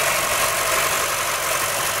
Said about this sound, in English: we're running the engine, and we got to get the air out of the system